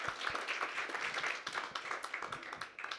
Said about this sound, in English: we can give one more round of applause to Jordan